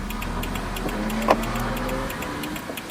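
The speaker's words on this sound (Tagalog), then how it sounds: "Nako, namatay na agad ang makina ko." A car's engine stalls while driving uphill: its low, steady idle rumble cuts out about two-thirds of the way through, while a regular ticking, like an indicator, carries on at close range.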